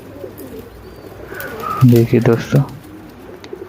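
Young paired pigeons kept by a flyer coo softly in the background while someone speaks briefly in Hindi over them.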